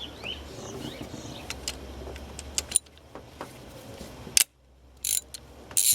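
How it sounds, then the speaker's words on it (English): Ratchet working a 10mm bolt loose from an ignition coil pack on a Lexus 2JZ engine, a run of fast close mechanical clicks and ticks with a few sharper metallic clacks near the end. "Next we're going to remove this 10mm bolt over here that holds this ignition pack on."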